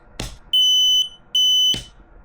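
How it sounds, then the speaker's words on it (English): A headlight reminder beeper sounds two loud, sustained high-pitched beeps about half a second each, separated by a short gap, with clicks or thumps before and after. "this will beep"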